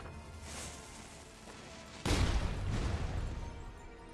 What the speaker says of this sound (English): Oh wow, you take a lot of cannonball hits.